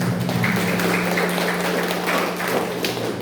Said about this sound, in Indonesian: Tepuk tangan dulu buat Pak Kades.